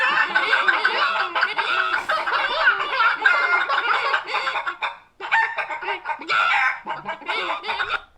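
A dense chorus of chickens clucks and cackles continuously and close up in an animated Family Guy scene, breaking off briefly once before resuming, with laughter-like chortles mixed in.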